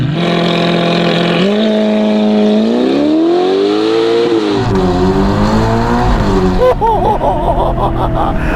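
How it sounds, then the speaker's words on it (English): A Novitec-tuned 704hp Ferrari Roma Spider with a 3.9-litre V8 accelerates hard in race mode. The loud, close engine note climbs in pitch through several gear changes and ends in a rising snarl. "select first gear, switch off the hazards, go into manual, slick it into race mode"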